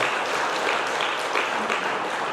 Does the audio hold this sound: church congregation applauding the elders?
yes